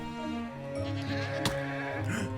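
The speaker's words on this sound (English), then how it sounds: "This little goat just rammed me." A Minecraft goat in the 1.17 Caves and Cliffs update ramming the player, with bleats amid game sounds, a sharp thud midway, and a brief whooshing rise near the end.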